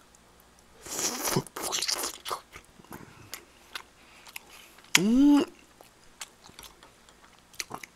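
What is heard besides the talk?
chewing spicy braised ribs and tteokbokki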